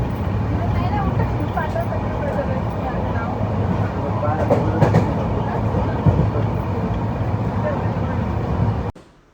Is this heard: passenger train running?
yes